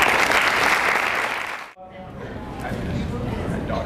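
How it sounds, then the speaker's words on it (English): Audience applause for a keynote speaker at a public art symposium, loud clapping that cuts off abruptly partway, followed by quieter room noise and murmuring voices. "I think we need to give another round of applause to Dan Jones"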